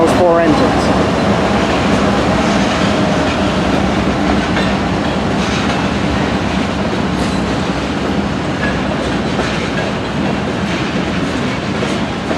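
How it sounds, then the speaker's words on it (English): Union Pacific freight train rolling into a rail yard with four locomotives, a loud, steady rumble with rail clatter and wheel squeal close by, continuous for the whole stretch; faint voices may sit underneath. "This is, I think, the first time we've ever seen a freight train come into the yard."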